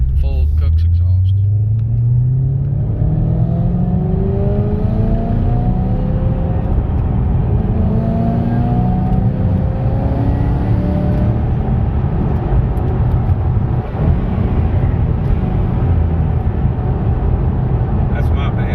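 A 2013 Mustang 5.0L fitted with a complete Kooks header system and full Kooks exhaust, on a test drive. Its loud, deep engine rumble climbs steadily in pitch through the gears and dominates throughout.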